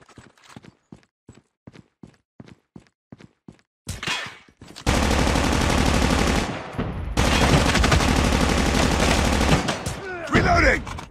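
Gunfire in the video game Call of Duty Mobile: a run of evenly spaced single shots or footsteps, then long loud sustained bursts of automatic fire with a short gap between them.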